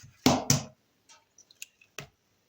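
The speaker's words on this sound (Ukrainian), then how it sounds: "В миску вбиваю яйце" An egg cracked into a bowl for varenyky dough: two sharp close knocks against the rim followed by a few small wet drips and squishy splats as it drops in, with no talking.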